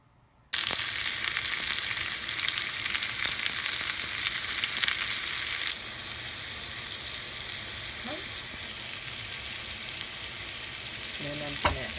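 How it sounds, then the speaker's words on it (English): Chayote and eggs stir-frying in a hot pan give off a loud steady sizzle that drops to a softer frying hiss partway through, with occasional clinks of stirring. "So I'm gonna try stir fry them with eggs and see what the difference is between the two."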